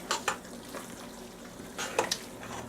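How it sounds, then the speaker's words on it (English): Spoon stirring sauce in a pan over low heat, soft scraping strokes with a few sharper clinks of utensil against metal, faint and close, with no talking. "Stir it."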